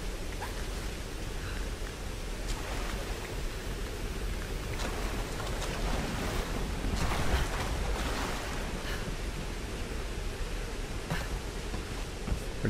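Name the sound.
waterfall rushing in Tomb Raider 2013 video game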